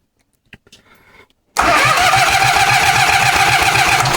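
A Wheel Horse C-175 riding lawn mower engine, old and rusty, is cranked a few faint times, then fires and runs loudly and steadily with a rough, pulsing idle, close by.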